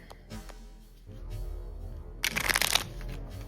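Playing cards shuffled by hand during a tabletop game session, a soft riffling flutter building into a louder, dense burst of card snaps near the middle, then settling.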